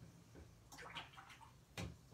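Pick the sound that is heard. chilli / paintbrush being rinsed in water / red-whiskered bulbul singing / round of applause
paintbrush being rinsed in water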